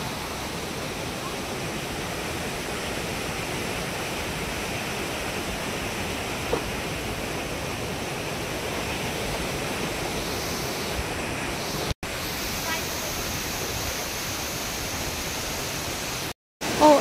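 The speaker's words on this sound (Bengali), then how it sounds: "খুব স্পিডে জলটা যাচ্ছে।" Fast-flowing river water rushes near Khecheopalri Lake, a constant broadband roar like surf or a waterfall, steady and close throughout with brief dropouts near the end.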